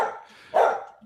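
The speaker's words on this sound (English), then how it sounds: "Can you hear the dog?" A dog barks once at close range, a short loud woof rising over a quieter, muffled room murmur, followed by a faint trailing sound.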